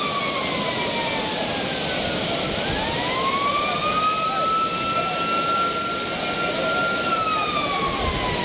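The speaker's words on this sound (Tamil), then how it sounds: "காவல்துறையினர் அபாய ஒலி எழுப்பி சுற்றுலா பயணிகளை அங்கிருந்து அப்புறப்படுத்தினர்" A police warning siren wails at the flooding Courtallam main waterfall, its tone sliding slowly up and down above a continuous heavy roar of rushing water.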